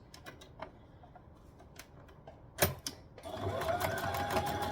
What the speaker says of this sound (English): Stitch and back stitch.